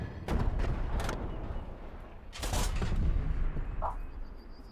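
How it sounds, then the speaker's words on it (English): An anti-tank gun fires in the war game Call to Arms: Panzer Elite, with several loud booming shots and rumbling blasts in quick bursts, close and heavy. "Gun shot. Let's eradicate it. AT gun."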